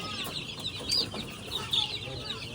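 Week-old chicks kept in a cage give thin, high peeping calls that come in brief clusters, fairly close by. A faint background hiss runs under them and no one speaks.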